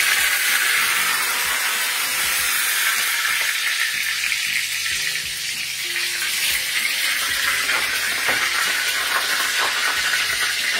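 Steady, loud sizzling and crackling of spices tempering in hot oil for oats dhokla, continuous hiss throughout with no talking.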